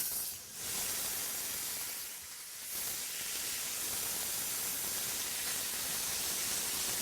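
Ground turkey sizzling in olive oil in a pan, a loud dense hiss that runs continuously, dipping briefly twice near the start and then holding steady.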